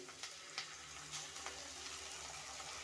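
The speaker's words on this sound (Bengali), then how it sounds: "এখানে আমি ডিমটাকে ফাটিয়ে দিয়ে দিচ্ছি একেবারে" An egg cracked into a hot pan with chow mein fries with a steady, close sizzle, broken by a few short crackles and pops, with no talking.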